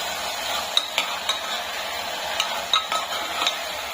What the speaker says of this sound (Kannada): ಎಲ್ಲ ತರಕಾರಿಗಳು ಈ ಥರ ಎಲ್ಲನೂ ಫ್ರೈ ಆಗಿ ಹೋಗ್ಬಿಡ್ಬೇಕು